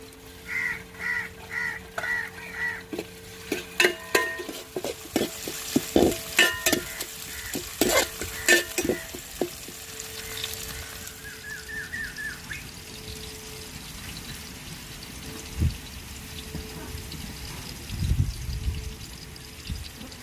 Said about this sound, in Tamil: வதங்கி வந்துருச்சுங்க நம்ம தக்காளியை சேர்த்துக்கிறோம்